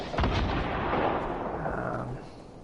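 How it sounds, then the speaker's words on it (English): Rocket launcher blasts and explosions in a Fortnite Battle Royale match, a booming burst followed by a rolling, rumbling tail that fades gradually, with no voices. "So we've got enemy firing those RPGs."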